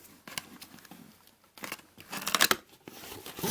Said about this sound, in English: I haven't even opened the shipper yet, so let's get this thing out of here.